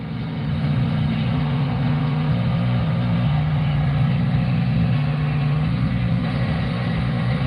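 Engine fitted with an HHO hydrogen gas system runs at a steady idle, a loud continuous low rumble with an even, unchanging tone throughout.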